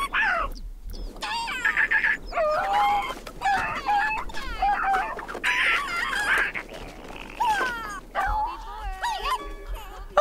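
Chickens and a rooster cluck and squawk in a countryside farm life video game, with busy, overlapping high calls that run throughout while a voice talks over them.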